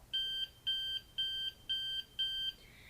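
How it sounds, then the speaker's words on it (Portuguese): Five short electronic beeps sound in an even rhythm, each a clear high tone separated by brief pauses, as quick Morse code dots from a pressed button in a robotics class. "Se eu quiser fazer um bip rápido, vou tocar rapidamente"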